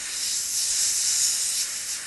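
An airbrush sprays red paint onto a T-shirt with a continuous, close, even hiss that swells slightly at moments and holds steady throughout.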